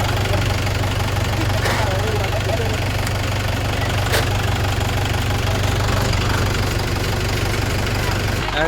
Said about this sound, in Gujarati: એક જ ટ્રેક્ટર રહે મોટું મશીન લગાડ્યું